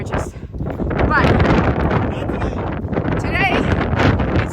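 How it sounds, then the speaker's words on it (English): Wind gusting hard across a mountain summit on the Appalachian Trail near Carter Dome, a constant loud roar buffeting the microphone, with people talking underneath. "today, it's just windy"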